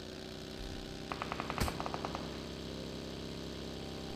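Rapid burst of gunshots in a mobile battle-royale game, a quick string of sharp cracks with one louder report mid-burst, heard over a steady low engine-like hum and fairly faint.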